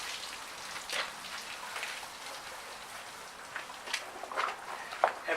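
A wash mitt is rinsed in a bucket of water during motorbike detailing, giving splashy, sloshing water sounds with scattered louder splashes toward the end, close and alone.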